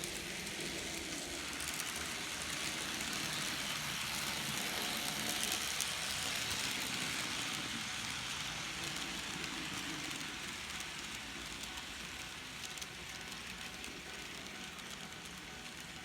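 An N scale Bachmann F7 model locomotive, one with repaired broken gears, runs steadily along the track with a continuous rumbling, rattling whir that stays even throughout, with no talking.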